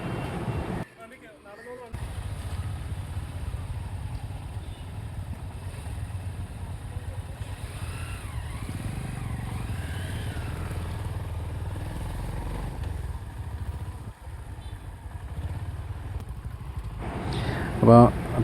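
A Honda RS 350 motorcycle on a ride in Alappuzha rumbles low and continuously beneath someone talking throughout, with a brief dip early on and a louder burst near the end.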